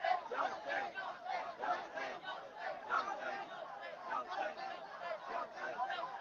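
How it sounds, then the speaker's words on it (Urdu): A crowd at a religious gathering chants slogans in unison, a steady rhythmic roar of many voices repeating in pulses throughout. "تھوڑا سا نعرہ لگا دو"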